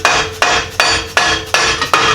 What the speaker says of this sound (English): It's my dead blow hammer for a little tap action.